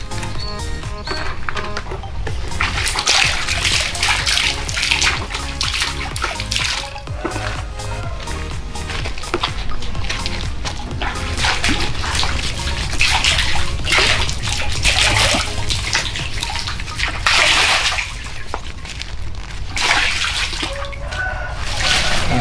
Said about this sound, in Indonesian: Dicampur air begini hanya untuk supaya lebih merata saja.